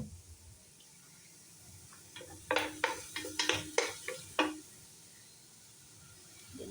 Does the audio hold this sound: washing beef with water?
yes